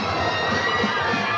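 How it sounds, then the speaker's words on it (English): A football crowd in Cheney backs the Eastern Washington Eagles at a 1996 game against Montana State, a steady, dense roar of cheering voices filling the stands with no single call standing out. "Part of the crowd in Cheney, backing their Eagles"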